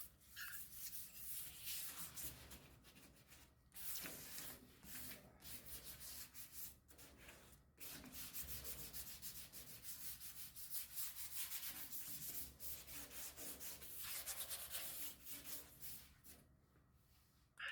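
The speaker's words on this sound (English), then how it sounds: "we're going to Scotch-Brite this entire area." A Scotch-Brite pad scuffs the quarter panel of a 1963 Impala SS convertible, giving a steady, close abrasive rubbing with brief pauses between strokes, continuous and alone.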